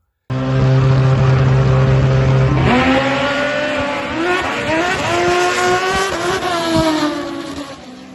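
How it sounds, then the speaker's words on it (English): A night drag race against a nitrous motorcycle, heard from the finish line: a loud engine roar sweeps past with rising, shifting revs, then fades as the vehicles pass into the distance. "I got a video from the finish line. It's at night, but that was my loss against probably the fastest nitrous bike I know of around here right now"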